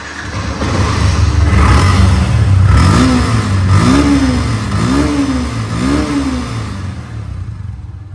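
A 2023 Yamaha FZ-2 motorcycle engine revs loudly up close in a run of about four rising throttle blips over a steady running note, then eases toward idle, with no talking.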